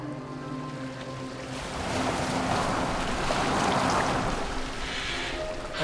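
A boat sailing on open water in the video game Assassin's Creed Valhalla, with a steady wash of waves and wind rushing around the hull and swelling slightly midway, without speech.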